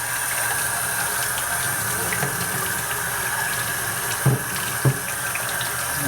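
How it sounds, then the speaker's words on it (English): Water runs steadily through a Bissell carpet cleaner (shampooer) as a continuous rushing flow, with two short knocks near the end. "I'm going to run some water through there"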